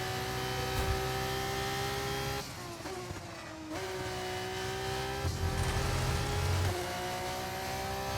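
F1 car engine in F1 25 racing at Imola, a loud, high droning whine that rises and drops with gear changes and braking, steady and up close with no talking.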